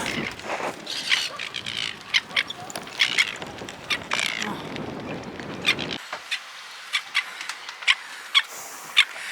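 Seagulls attacking near a sailboat give sharp, repeated calls in bursts, some close and loud, over wind and boat noise that drops away partway through, leaving clearer isolated cries.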